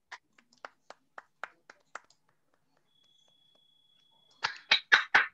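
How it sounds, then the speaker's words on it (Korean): A small audience at a maritime law author talk claps sparsely: a few faint, isolated claps early on, then a pause and a short, louder burst of four or five claps near the end. "박수 좀 부탁드리겠습니다."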